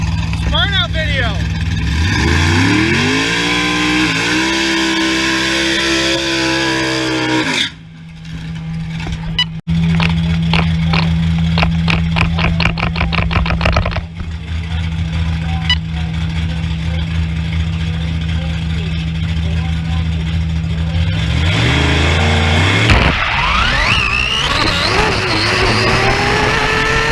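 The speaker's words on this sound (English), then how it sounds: "Burnout video." A 1000hp drag-racing Chevy Nova doing a burnout, loud sustained engine roar with revving surges and a steady high drone, close up and dominating, with a brief dip partway through before the engine climbs again.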